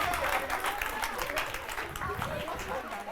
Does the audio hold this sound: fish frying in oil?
no